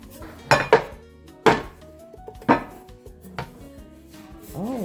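A pan of set milk powder fudge with nuts is turned over onto a board, giving a few sharp metallic clanks and knocks, close by, followed by lighter scraping handling sounds.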